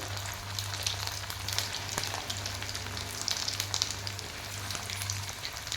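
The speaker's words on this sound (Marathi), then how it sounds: "आपल्याला दुसरे बॉल्स पण टाकायचे आहेत आणि ते पण तळून घ्यायचे आहेत" Snack balls deep-frying in hot oil give a steady, dense sizzle and crackle throughout, fairly close and continuous with a low hum underneath, no voices.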